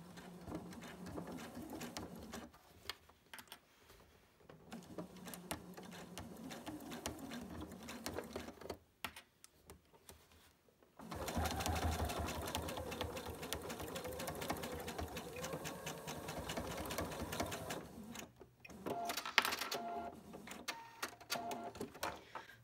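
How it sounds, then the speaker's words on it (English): A sewing machine stitches slowly through a thick bound seam on a fabric pouch, running in short bursts with pauses, then a longer steady run of rapid needle clatter, close and quiet. "I will take this to my sewing machine to do the seam there"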